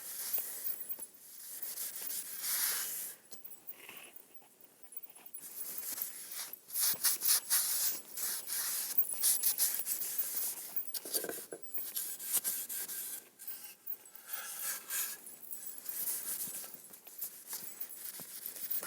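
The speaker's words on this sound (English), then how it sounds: "you're just going to wipe that stain off." A cloth wipes stain off sanded, red-painted furniture for a distressed finish, giving repeated soft rubbing and scrubbing strokes close up in an otherwise quiet room.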